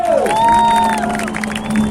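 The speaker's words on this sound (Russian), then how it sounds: "А мы ему аплодируем и машем руками!" A crowd at an air show cheers and claps in a loud, steady swell as a Tu-95 flies past, with a high whistling tone sliding across the noise.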